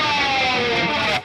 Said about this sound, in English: And you do that and you get a really cool sort of pick slide sound like that.